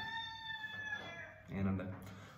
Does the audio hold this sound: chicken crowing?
yes